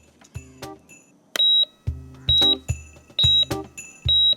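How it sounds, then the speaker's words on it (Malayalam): An electronic device gives a series of sharp, piercing beeps at roughly regular intervals. Soft clicks and handling knocks fall between the beeps, and nobody speaks. "ഈ നെഗറ്റീവ് എനർജി അടുത്തുണ്ടെങ്കിൽ ഇത് ബീപ് ബീപ് ബീപ്പ് അങ്ങ് സൗണ്ട് കേൾക്കും"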